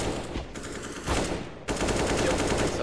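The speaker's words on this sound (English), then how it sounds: "Meech finds himself an opening kill and an AK-47. So, Kalashnikov in hand now" Close, loud bursts of automatic AK-47 fire from Counter-Strike on the Inferno map, a rapid rattle with brief pauses between volleys.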